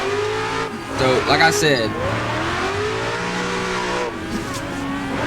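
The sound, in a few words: BMW E36 M3 drifting with clutch kicks in a video game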